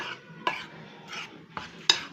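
A spoon scrapes and stirs through dry biscuit ingredients in a bowl, with a few sharper clinks against the side, close and fairly quiet.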